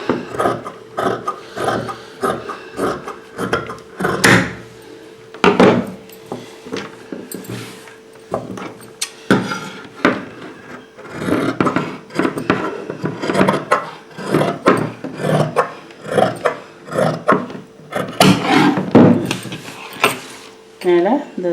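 Fabric being cut with tailoring scissors for a three-quarter hand sleeve, a run of close, crisp snipping and rustling cloth sounds with some pauses, mixed with speech throughout.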